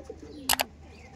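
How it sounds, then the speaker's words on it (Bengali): Kala sabuj pigeons in a loft give a short, soft coo close by, with a faint murmur of other birds in the background. "কালা সবুজ পায়রা আমি ভিডিও করছি আপনার সামনে"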